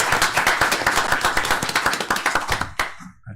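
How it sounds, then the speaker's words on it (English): Applause from a small group at a city commission meeting: a few pairs of hands clapping in quick, distinct, close beats for about three seconds before stopping abruptly. "So let's give yourself a round of applause."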